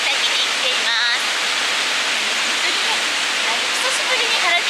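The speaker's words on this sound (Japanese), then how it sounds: "今日私はですね、原尻の滝に来ています。" Harajiri Falls in Japan, a spring waterfall, roars as a dense, steady wash of falling water, loud and unbroken; a voice speaks briefly over it.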